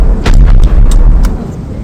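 Loud repeated booms of cannon fire in a sixteenth-century battle's artillery duel, several heavy blasts in quick succession over a rumbling low-end, no talk.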